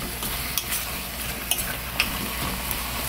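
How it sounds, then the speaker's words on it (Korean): Squid and radish stir-fried in a pan for a mild squid soup, giving a steady soft sizzle with a few sharp scrapes and clicks of the stirring utensil against the pan. "오징어가 익을 때까지만 이렇게 볶아주시면 되고요."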